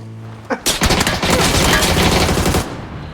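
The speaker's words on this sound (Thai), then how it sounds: "ยังยิงอยู่ยังยิงอยู่" Rapid bursts of automatic gunfire in PUBG, a dense loud volley that starts abruptly and runs for about two seconds before cutting off.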